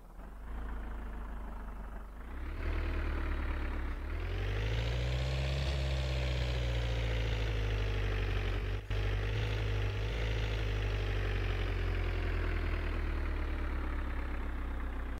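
A Panier 250 diesel car idles in the My Summer Car video game. The engine catches after a quiet moment, revs up briefly, then settles into a steady, close, low rumbling idle with no talk.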